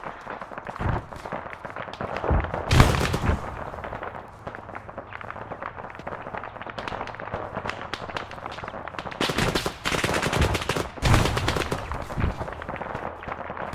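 Gunfire in the military shooter Arma during a bay invasion: sharp shots and rapid bursts, some close and loud with several heavy cracks, others more distant, scattered unevenly across the scene.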